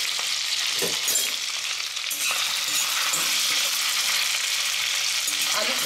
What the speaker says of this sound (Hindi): इसमें हम आलू को पहले फ्राई करके निकाल देते हैं।